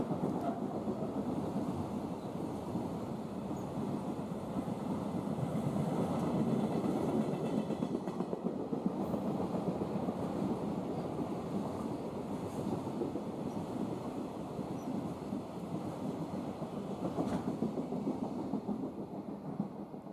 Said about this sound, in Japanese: EH500 型電気機関車に牽引された貨物列車が来ました。